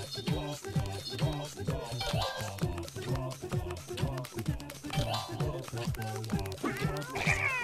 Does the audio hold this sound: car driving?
no